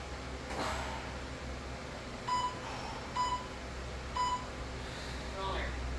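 A workout timer in a home garage gym sounds three short, evenly spaced electronic beeps about a second apart over steady background noise.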